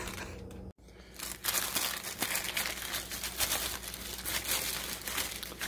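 Packaging from a mystery mail package holding glowing coasters gets unwrapped close up, with continuous crinkling and rustling of wrap and paper after a brief pause near the start.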